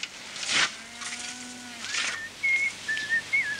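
A person whistles a short melodic tune in clear tones, a few rising and falling phrases with brief pauses, close and moderately loud with no talking.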